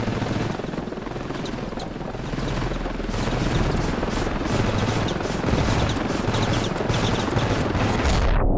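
An aircraft strafes a tank depot in the video game Ravenfield. Steady, loud rotor-like engine roar mixes with dense, rapid gunfire that keeps up throughout, with no pause.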